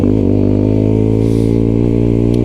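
A sport motorcycle fitted with an aftermarket exhaust runs at a steady, loud, close engine drone, a rich low throbbing note holding constant throughout, heard alone without speech.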